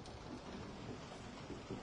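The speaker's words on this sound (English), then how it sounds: "it's raining now" Rain falls in the horror video game Resident Evil 7, a faint, steady hiss of rainfall with soft low rumbling underneath, heard alone without talk throughout the short stretch.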